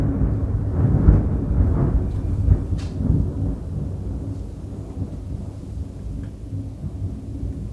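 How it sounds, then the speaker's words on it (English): Deep rumbling thunder rolls on and fades slowly, with soft rain-like noise underneath and no voices. "Oh, that was really loud thunder."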